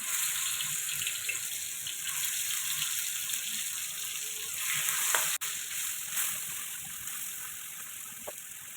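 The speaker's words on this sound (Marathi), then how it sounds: "तेल तापले की कोळंबी घालून" Steady, loud sizzling of prawns frying in hot oil in a pan, a continuous hiss with a brief clatter partway through and no voices.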